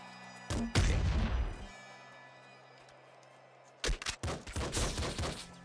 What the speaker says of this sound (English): Fucking grenade launcher.